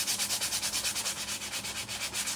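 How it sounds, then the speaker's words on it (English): Sandpaper rubs back and forth over a wooden Christmas tree farm sign in quick, even strokes, a close, soft scratching rhythm with no talking. "So I'm going to sand this real quick."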